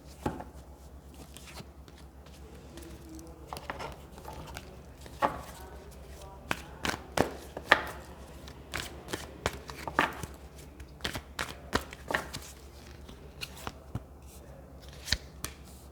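Tarot cards are shuffled and pulled in a quiet room, giving scattered sharp flicks and riffling snaps that come in uneven bursts, close and fairly soft.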